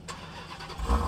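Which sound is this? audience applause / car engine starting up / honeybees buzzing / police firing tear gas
car engine starting up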